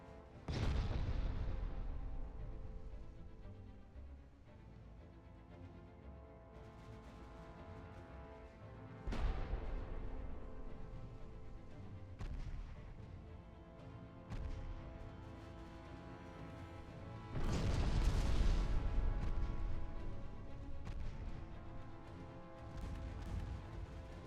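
Warship secondary guns in Ultimate Admiral Dreadnoughts fire in a few heavy, distant booms spaced several seconds apart, each rolling into a long decaying rumble over quiet ambient sea noise.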